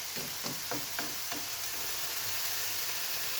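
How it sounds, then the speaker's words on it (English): Vegetables get tossed and stirred into a hot pan with mince, a steady close sizzle with a few quick scraping stirs early on, then constant frying hiss alone. "basically now I'm just going to add in the veggies. Just give them a nice toss and a bit of a stir."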